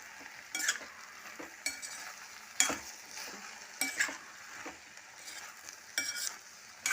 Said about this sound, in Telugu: ఇప్పుడు ఈ టమాటాలు కూడా ఇందులోకి వేసేసుకుంటున్నాను ఒకసారి కలిపేసుకుంటున్నాను